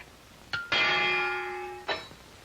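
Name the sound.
boxing match bell starting the round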